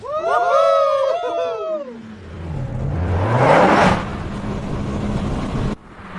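Race cars, fourteen in all, sweep past on their second lap of a race: a rising, roaring whoosh that swells loud and fades, after an opening stretch of high, wavering cries.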